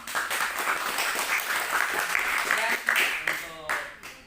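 Applause from students at a public speaking training session in Java: a steady round of close clapping lasting a few seconds, thinning out toward the end.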